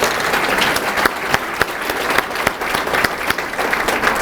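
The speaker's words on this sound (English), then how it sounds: "Would you please give them a round of applause" Many people clapping at a civic luncheon in a room, a loud, sustained round of applause with sharp individual claps popping out of the dense patter throughout.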